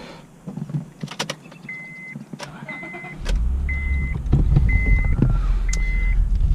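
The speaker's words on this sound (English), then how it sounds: "And we'll go ahead and start it up." A 2007 Honda Accord V6 with a six-speed manual is started from the driver's seat: a short cranking burst, then the engine catches and settles into a steady, fairly loud idle after a few clicks and rustles.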